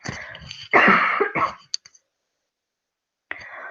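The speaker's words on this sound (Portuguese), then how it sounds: "Deixa eu dar uma tossidinha aqui." A voice gives a short throat-clearing cough with a few small clicks afterward, then silence before a brief return of sound.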